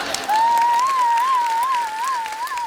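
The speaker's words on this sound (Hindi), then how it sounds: "और आप क्या तालियां बजा रही हो?" Studio audience clapping on a comedy show, a steady wash of applause under a sustained wavering tone throughout, fairly loud and even for a few seconds.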